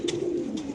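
A male racing pigeon coos close by, one low, steady throaty coo rolling on for under a second with no talk over it.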